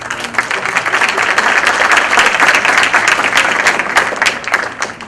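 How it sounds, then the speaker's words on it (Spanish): Steady audience applause follows the introduction of León Felipe Sánchez at the Aprenred VIII university lecture, a dense, sustained clapping that fills the room at even loudness with no talking over it. "Un aplauso, por favor."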